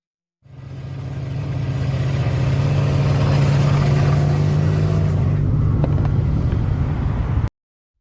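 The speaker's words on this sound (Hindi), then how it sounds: "बाइक वीरान सड़क पर दौड़ रही थी" Motorbike riding along a deserted road through dense forest at night, a steady low engine drone that fades in, holds loud and even for several seconds, then cuts off abruptly, with no voices.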